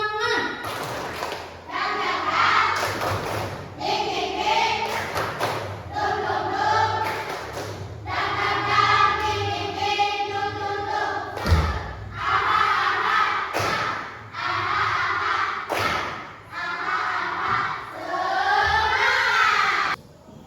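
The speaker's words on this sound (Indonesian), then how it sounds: "Ayo kita sama-sama tepuk semangat." A classroom of schoolchildren does a rhythmic spirit clap, sharp hand claps and thumps in a steady pattern mixed with loud group chanting and the teacher's voice throughout.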